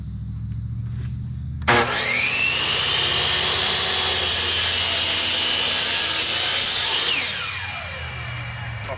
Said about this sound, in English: So here we go with the first cut.